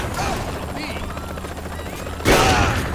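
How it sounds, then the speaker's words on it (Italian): A helicopter in the video game Saints Row: The Third Remastered, its rotor noise a steady drone that swells suddenly louder near the end amid game action and gunfire-like bursts. "abbiamo già un elicottero che ci sta cercando di uccidere"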